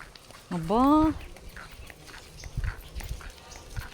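A single dog gives one drawn-out whining bark or yelp, close and fairly loud, heard in a quiet indoor setting with faint murmuring voices and background noise afterward.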